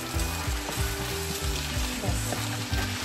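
Chow mein noodles frying in a pan for a Kolkata-style chicken gravy chow mein give a steady, close sizzle that runs the whole way under prominent background music.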